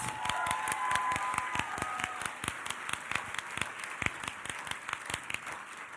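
An audience at an annual celebration gala applauds steadily for Mariama, many hands clapping in a dense, even patter that holds throughout with individual claps standing out near the microphone.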